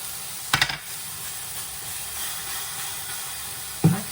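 Frying pan with an egg ring greased with Frylight spray oil, giving a steady soft sizzle and hiss throughout, broken by a couple of brief clinks as the ring is set down.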